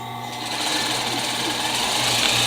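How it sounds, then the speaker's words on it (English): A sewing machine stitches pillow fabric with a steady, close, rapid mechanical whir that runs unbroken throughout. "And just continue to sew."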